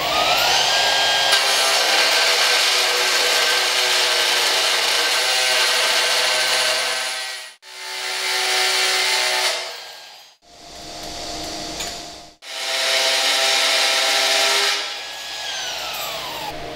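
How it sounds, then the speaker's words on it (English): An AGP high-frequency brushless beveler cuts a 45-degree bevel in metal with a loud, steady, high-pitched motor whine. The whine runs in three long passes separated by brief drops to near silence. "Now we'll perform a 45-degree bevel."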